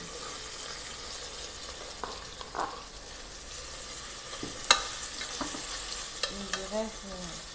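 Onions frying in oil in a pot for Senegalese thiéboudienne, a steady low sizzle running throughout with occasional stirring scrapes and knocks, fairly quiet and close, with no talking.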